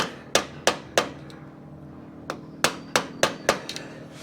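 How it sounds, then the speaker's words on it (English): Sharp metallic hammer knocks on a lock washer, knocking it down from a nut during clutch work on a 1973 ATMX motorcycle, about a dozen in irregular bursts, some spaced apart and others in quick succession, close by. "I have to knock the lock washer down from the nut"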